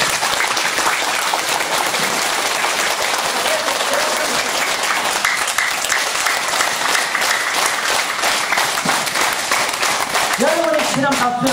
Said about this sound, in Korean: 여러분 두 손으로 박수 한번 치보세요. 두 손.